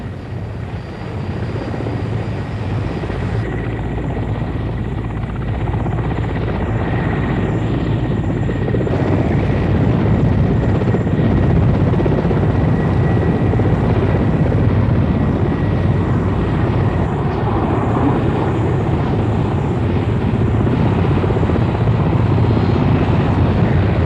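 Air Force aircraft carrying commandos fly in tight formation. A loud, constant drone of engines and rotors stays steady and close throughout, with no voices.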